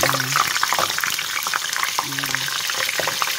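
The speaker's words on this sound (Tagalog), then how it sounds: "So, sa maliit lang tayo magpiprito kasi sayang yung mantika" Frozen spring rolls fry in a little oil in a small pan, giving a steady, close crackling sizzle with occasional sharper pops and stirring scrapes, while someone talks over it.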